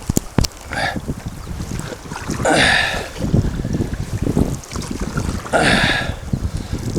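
A boat on the Missouri River near Sharpe pulls in toward a dock. Wind rumbles and water washes steadily, with a couple of louder surges as it approaches.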